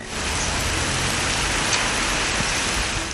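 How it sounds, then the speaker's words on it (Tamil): Heavy rain lashing down with strong wind in Palani, Tamil Nadu, a dense, steady roar of downpour that holds at a constant loud level for the full stretch, with no voices. "பழனி மற்றும் சுற்றுவட்டார பகுதிகளில் பலத்த காற்றுடன் பெய்த கனமழையால் பல இடங்களிலும் மரங்கள் சாய்ந்து விழுந்தன"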